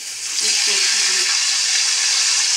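A loud, steady sizzle of barramundi (bhetki) fish fat frying in hot oil in a wok, rising after a brief pause and continuing evenly, with a faint voice early on.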